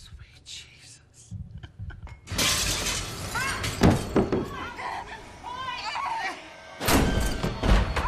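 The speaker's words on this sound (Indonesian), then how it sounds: "di luar sana Eric melempar kaca jendela hingga pecah mengagetkan mereka." A glass window is smashed in a psychopath horror film scene, a loud sudden crash with scattering shards following a few soft thuds, then a second burst of breaking near the end, with voices faintly underneath.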